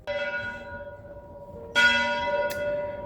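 Church bells of a hilltop château village in Cagnes-sur-Mer ring out with rich, sustained tones, a second louder peal striking partway through and layering over the lingering hum of the first.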